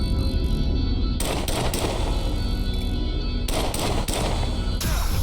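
Gunfire from a video game demo on Steam, with loud bursts of rapid shots in three clusters over a steady background hum and no talk.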